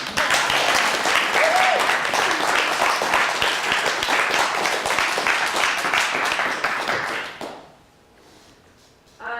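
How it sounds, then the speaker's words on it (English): An audience at a company talk session applauding, a sustained round of dense clapping that fades out near the end, leaving a brief quiet. "First applause"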